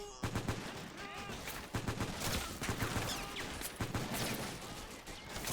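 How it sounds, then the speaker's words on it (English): Machine gun fire in a Korean War hill battle video game with a realism mod, continuous rattling bursts and scattered gunshots across a distant battlefield, dense and steady throughout. "love that machine gun sound"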